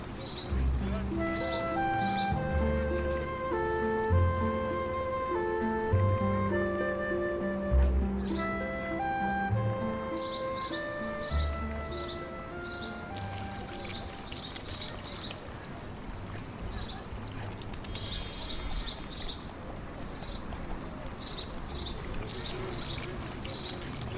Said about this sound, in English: Now we need to water the flowers.